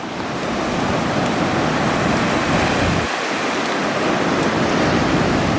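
Ocean surf washes onto a shore in a steady, loud roar of breaking water, with one brief lull partway through and no voices.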